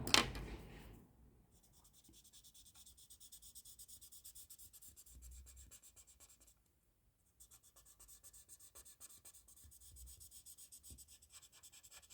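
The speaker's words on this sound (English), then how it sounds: "We could even add a little bit of pencil onto the inside line." A pencil drawing on paper makes a steady, soft scratching rub in rhythmic strokes, close and faint, with a short pause partway through and no talking.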